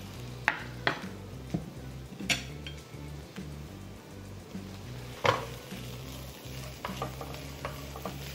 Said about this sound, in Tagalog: And then, isa-stir fry lang natin.